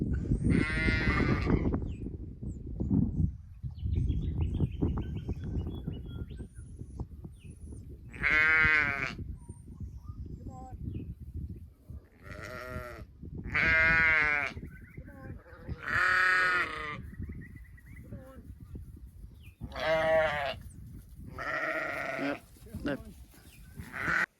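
Sheep bleat loudly and repeatedly, several animals calling close by in bursts, with spring rain noise and low background rumble between calls.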